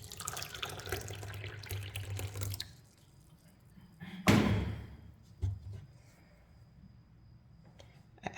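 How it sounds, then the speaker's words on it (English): Water poured gradually into bread dough during hand kneading in a home kitchen: a steady close pour for a few seconds, then a sharp knock with a brief splash and quieter scattered sounds. "So I need to add more water."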